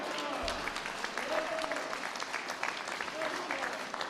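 Faint, distant applause from the audience at a Gov. Pritzker news conference, a soft, even patter of clapping heard at low level in a large room.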